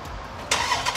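Engine of a Dodge Charger Daytona Scat Pack car, a steady low rumble that jumps into a louder, brighter roar halfway through, close by with no talking.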